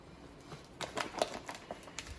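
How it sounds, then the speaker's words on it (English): Knife chopping fresh cilantro for fish tacos, a series of soft, irregular taps close by, faint and unhurried, with no talking. "we want to throw in a little bit of cilantro. Just gonna cut it up a bit."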